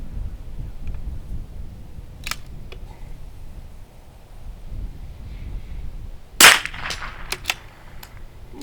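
A CZ 457 .22lr rifle fires a single sharp crack at an outdoor range, fairly close and short, against quiet background noise with a few faint clicks and knocks before it.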